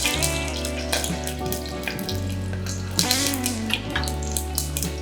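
Green chilies sizzle in hot oil for a mushroom biryani, a steady close hiss and crackle with a hum running underneath and music playing throughout, with no talking.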